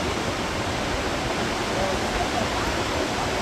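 Broad, constant roar of rushing river rapids below Niagara Falls, loud and steady throughout without pause.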